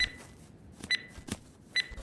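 Three short electronic beep bursts from a planted C4 charge in the game Hurtworld, evenly spaced about every 0.9 seconds, clear and fairly loud over a low background rumble with no talk.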